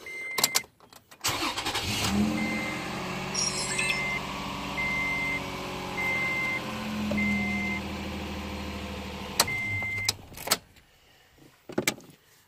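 Toyota Tacoma engine cranks and starts after a new chip key is programmed, settling into an idle with repeated chiming beeps and clicks over it, then shutting down near the end.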